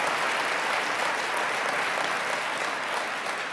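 Audience at a network marketing speakers event giving a round of applause, a thick, even roar of many hands clapping that stays loud throughout.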